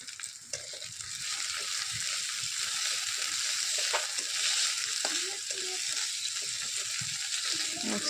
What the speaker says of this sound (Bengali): আমরা একটু নেড়ে চড়ে নেব